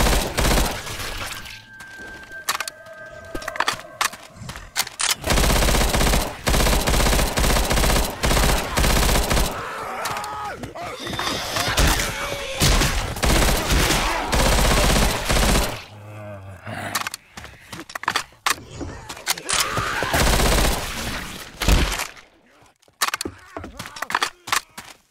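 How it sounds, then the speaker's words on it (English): Loud, dense machine gun fire in Left 4 Dead 2, long sustained bursts with short pauses and one quieter break, ending in scattered fainter shots. "machine gun?"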